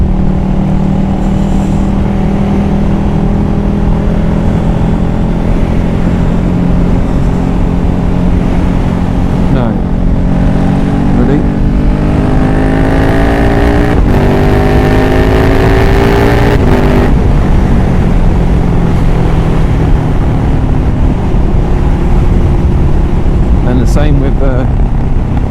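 KTM Superduke Gen2 motorcycle engine loud and close, revving and dropping through downshifts from fifth to fourth to third, with rising and falling pitch sweeps and sharp blips, steady roar throughout.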